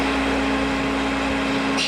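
A bench grinder grinding a drill bit runs steadily with a loud, continuous whirring and grinding roar and a low motor hum, with no voices.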